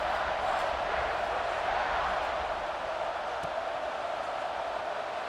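A stadium crowd at a football game keeps up a steady, distant roar of cheering, a dense, unbroken wash of voices throughout.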